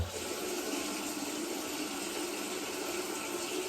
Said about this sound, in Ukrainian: В умивальнику відкрити воду.